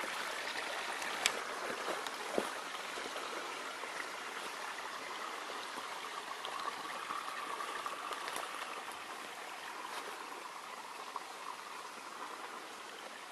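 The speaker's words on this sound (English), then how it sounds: "This is just one of the streams that's running through here" A small stream runs through a wooded rural property in Macon County, a steady, gentle babbling and trickling wash, moderately distant and unbroken, with no voices.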